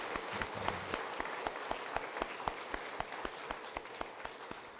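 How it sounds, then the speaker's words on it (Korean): A church congregation claps in praise during an Easter service, a steady patter of many hands at moderate distance, quiet and without voices. "하나님께 큰 박수로 한번 영광 올려드리겠습니다"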